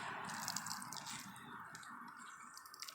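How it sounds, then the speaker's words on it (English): Water drips and squishes out of a soaked plant medium squeezed by hand while air layering a baobab tree, a faint, close, wet trickle with soft squelches running steadily, no talking. "Squeeze and get the water out."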